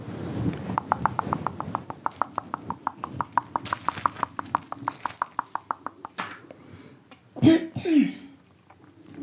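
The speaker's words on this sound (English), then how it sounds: "I had to clear my throat." A steady clip-clop rhythm of rapid clicks runs for several seconds, then a single throat clearing cuts in near the end.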